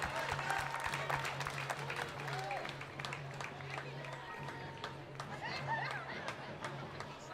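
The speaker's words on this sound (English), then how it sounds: "Give a round of applause to Tom as well" A parade crowd at a 4th of July parade gives faint, scattered applause outdoors, heard at a distance among chatter, a voice and a low steady engine-like hum.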